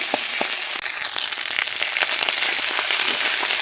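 Ground spices such as mustard paste sizzle and crackle in a small amount of hot oil with onion, garlic and ginger as they fry, a dense close-up hiss dotted with quick pops, with no voice.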